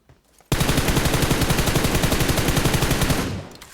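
Sustained automatic gunfire in PUBG Mobile rattles in a loud, rapid, even burst for about three seconds and then stops abruptly. No one speaks over it.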